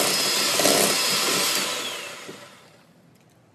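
An electric mixer creams butter and sugar for sugar cookies, a steady close whirring drone that holds for a couple of seconds and then winds down and fades out.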